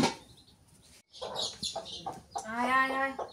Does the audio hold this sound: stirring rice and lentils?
no